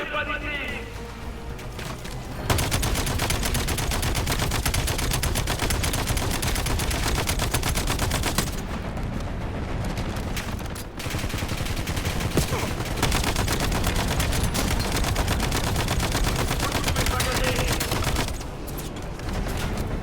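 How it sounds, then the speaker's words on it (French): Dense, continuous gunfire fills a firefight in the video game Call of Duty Black Ops 7, with rapid automatic bursts and explosive shots layered over game music and voices throughout. "Je me fais tirer dessus!"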